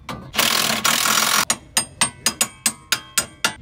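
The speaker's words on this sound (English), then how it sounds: "you're going to need a 17 millimeter wrench on the right and an 18 millimeter socket on the right" Socket wrench loosening a coilover bolt on an S13 hub, first a long continuous grinding rub, then a rapid series of about ten sharp, close ratchet clicks in quick rhythm.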